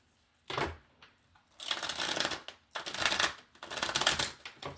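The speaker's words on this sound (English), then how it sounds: "Right now, I'm shuffling the deck" A deck of tarot cards being shuffled, in four close, papery riffling bursts separated by short pauses, with no talk over it.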